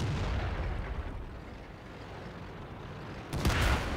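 Tank cannon fire in the tank combat game Steel Beasts, a dense rumbling roar of battle with a louder blast near the end, no talking.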